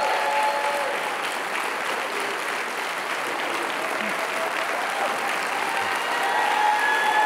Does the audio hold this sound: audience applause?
yes